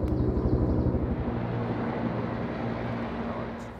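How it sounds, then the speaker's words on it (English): A very loud helicopter passing overhead, a steady broad low rumble with a faint rhythmic rotor throb that holds strong throughout with no talk. "I'm gonna let this very loud helicopter pass by"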